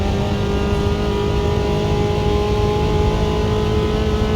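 A Chevy car engine revs hard and continuously, loud and close with a gritty mid-range roar and steady throttle across the gear shifts.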